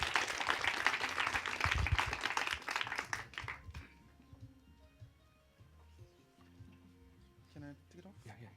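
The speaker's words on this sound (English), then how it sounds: "Please do give some round of applause to encourage." An audience claps for the first pitching team, GameOn, at a Garage48 hackathon on stopping human trafficking; dense applause for about three seconds, then it cuts off and quiet room sound and movement remain.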